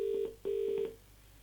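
Ringback tone of a phone call placed through a Divoom Ditoo Bluetooth speaker: two steady buzzing rings separated by a short pause, clear and moderately quiet, with no talking.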